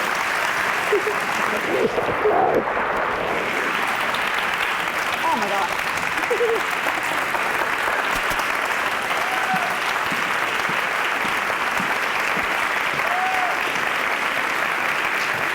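An audience gives a long, sustained round of applause: a thick, even roar of clapping that continues unbroken, with a brief exclaiming voice near the start.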